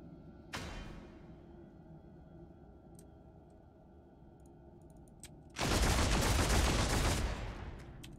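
In Warhammer 40k: Deathwatch, a sharp shot rings out early, followed by a few faint ticks, then a loud sustained burst of rapid gunfire that lasts about two seconds.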